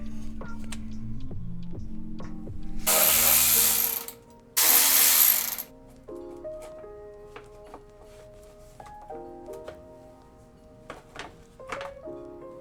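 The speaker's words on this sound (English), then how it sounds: "Now I'm gonna be removing these 3 bolts" Hand ratchet loosening bolts on a BMW X5 M50i during a coilover install, rapid clicking pawl bursts alternating with two loud hissing spurts, then slower scattered ratchet clicks and small metallic knocks up close.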